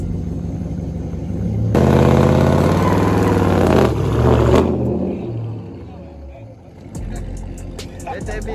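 A Dodge Scat Pack's engine revs hard in a sustained high-pitched roar during a burnout, then drops to a rumbling idle, with someone talking over it.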